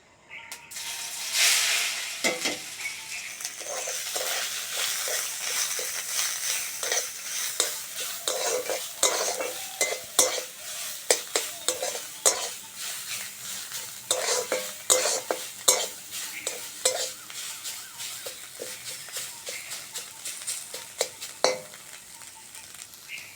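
Banana stem coated with salt and turmeric goes into hot oil with dried chillies and fries in a loud sizzle that settles down, then repeated stirring and scraping clatters through the rest.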